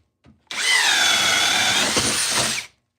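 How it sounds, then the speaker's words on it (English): A power drill fitted with a 1/2 inch bit bores into wood in one steady, loud, high whine of about two seconds, starting and stopping sharply, with no talk. "It drills pretty smooth if you're using smaller bits."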